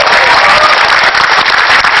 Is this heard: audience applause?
yes